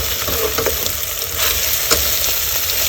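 Onions and potatoes fry in olive oil in a pan in a camper van kitchen, giving a loud, continuous close-up sizzle with occasional stirring scrapes.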